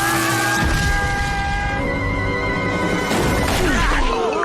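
A missile explosion in the Family Guy cartoon: a loud, broadband blast rises near the end over a dense bed of music and tonal effects that fills the whole stretch.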